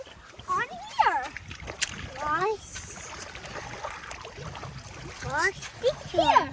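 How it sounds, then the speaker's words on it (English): Toys are washed in river water, with close splashes and running water while someone speaks over it in short bursts. "Now, let's wash this one on here."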